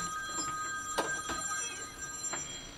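A phone rings with an incoming call from an unknown number, a repeating electronic ring sounding a few times at moderate volume with no voices over it.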